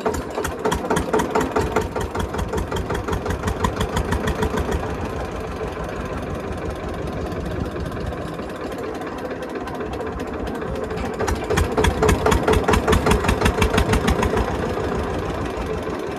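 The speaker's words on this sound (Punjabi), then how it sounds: "ਇਹ 15 ਸਾਲਾਂ ਦਾ ਪੁਰਾਣਾ ਬੋਰ ਚਲਾਇਆ ਗਾ।" An engine drives a 15-year-old buried borewell pump, chugging in a fast, steady rhythm close by. The engine stays loud throughout and dips slightly in the middle before swelling again.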